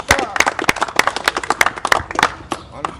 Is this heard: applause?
yes